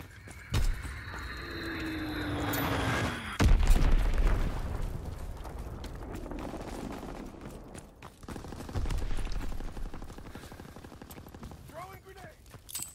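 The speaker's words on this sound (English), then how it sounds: "Dropping Azon bomb" Azon bomb explosions and scattered gunfire in a Call of Duty WWII team deathmatch: a heavy boom lands with a deep low rumble, followed by bursts of shots and later blasts, with some game voice chatter around them.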